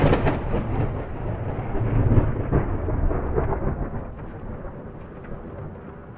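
A deep rolling thunderclap during a storm booms at the start and rumbles on, slowly fading, with rain-like hiss underneath and no voices.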